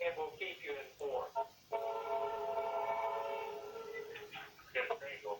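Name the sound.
Norfolk Southern train passing by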